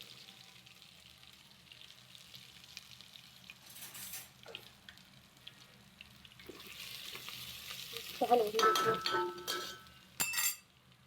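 Ingredients sizzle in very hot oil for a mutton dish, a low frying hiss through the clip that grows louder and busier toward the end, with clinks of a utensil against the pan.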